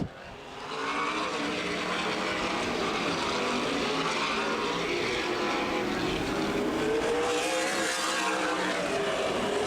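CRA Super Series stock cars lap Anderson Speedway in a continuous, fairly loud engine roar that holds steady without a break, heard at a distance across the oval.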